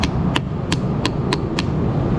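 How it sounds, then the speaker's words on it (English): Six sharp metallic hammer strikes on a Mazda 6 battery post ring out at a steady pace over a loud rumbling background. "Never hammer on a battery post"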